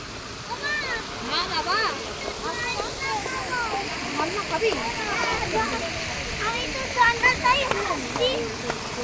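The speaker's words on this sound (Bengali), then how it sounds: "ঝর্ণার জলে হাত দিবি? চল দিবি।" Waterfall at an eco park, a constant rushing splash of falling water under frequent chatter from an adult and a child nearby.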